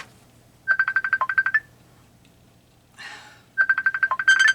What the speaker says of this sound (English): It was ringing on my computer, not my phone.